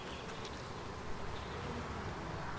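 Honeybees buzz around an open hive, a dense, continuous droning hum close by that fills the whole moment with no pauses.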